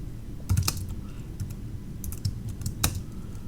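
Computer keyboard typing at a command line, a few quick clustered keystrokes with short pauses, close and fairly soft over a low background hum.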